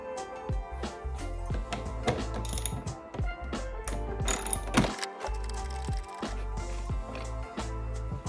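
A ratchet fitted with a 10mm socket clicks steadily while backing out bolts beneath the taillights of a Tesla Model 3 during a Curt trailer hitch installation. The rapid, close pawl clicking runs throughout, with occasional louder clanks and no talk.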